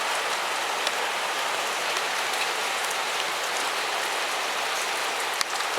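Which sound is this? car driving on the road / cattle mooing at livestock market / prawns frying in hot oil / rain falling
rain falling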